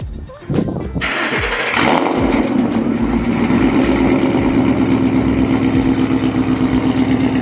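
A 2011-2014 Ford Mustang GT with Borla over-axle exhaust pipes cranks briefly, catches at about one second and settles into a loud, steady, deep rumbling idle close by.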